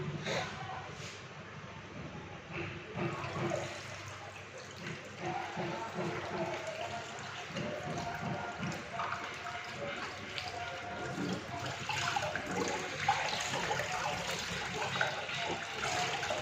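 Water runs steadily from a household tap into a basin, a continuous broadband splash that holds throughout, with people talking over it.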